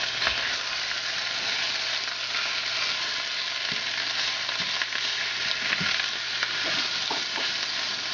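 Chopped onions frying with sausage in a pan, a constant close sizzle with occasional soft stirring clicks and scrapes, no voices.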